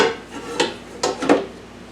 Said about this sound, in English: I'm going to place my baking pan. This is a round cake pan. I'm going to place it inside of the Ninja Foodi.